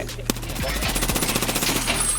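Rapid gunfire from a firefight in the video game Escape From Tarkov, loud bursts of automatic shots cracking over a continuous low rumble, with brief sharp reports repeating throughout.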